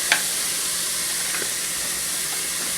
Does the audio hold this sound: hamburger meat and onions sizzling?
yes